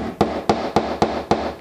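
Five evenly spaced, sharp hammer blows drive pins into wood, each one a crisp, close knock about a quarter second apart.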